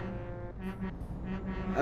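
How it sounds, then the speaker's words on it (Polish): A truck's roof-mounted air horn in the Euro Truck Simulator 2 game honks in a few short blasts over a steady engine drone. "ja cały czas na dachu trąbię"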